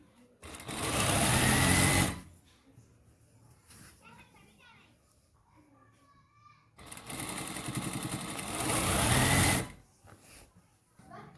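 Sewing machine stitching a shalwar with a waistband belt, running in two loud, steady bursts of rapid stitching separated by a quieter pause where someone talks.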